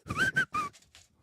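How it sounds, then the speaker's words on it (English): A person whistles through their teeth in a short, breathy run of three bright, wavering notes, the third slightly longer, followed by a couple of faint trailing tones close to the mic. "Can you whistle through the tooth yet?"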